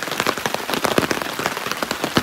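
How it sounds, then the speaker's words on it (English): Rain during a thunderstorm at Daisy Lake in Algonquin Park in fall, pattering close and fairly loud on a surface overhead in dense, irregular drops with no thunder or voices. "it's thundering and lightning now, and it's raining a little bit"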